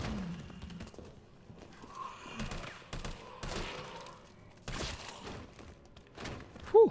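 Gunfire from the player's weapon in Resident Evil 3, a scattered run of sharp shots and thuds of moderate loudness over a dark game soundscape.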